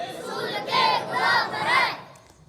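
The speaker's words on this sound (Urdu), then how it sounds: "چلیے نعرہ لگاتے ہیں، غلام ہیں غلام ہیں" A large crowd at a Dawat-e-Islami religious gathering chants a religious slogan in unison, three loud rhythmic shouted phrases in quick succession that rise and fall together over a background murmur.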